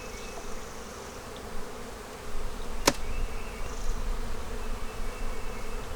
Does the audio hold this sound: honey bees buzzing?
yes